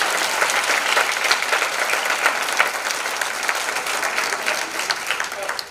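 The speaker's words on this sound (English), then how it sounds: "Let's give it another round of applause." A seated audience claps in a steady, dense round of applause that continues evenly for several seconds, then fades at the close, with a murmur of voices beneath.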